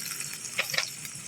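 Coke pours into a pan of chicken adobo as its broth, a brief close liquid splashing and gurgling with a few bright bubbly spurts and no voices.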